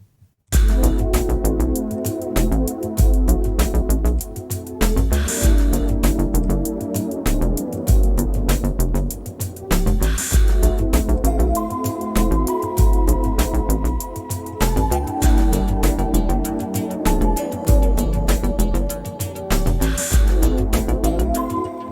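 A funky, punchy bass line playing along with an upbeat electronic game-style tune, steady rhythmic groove throughout, loud and without voices.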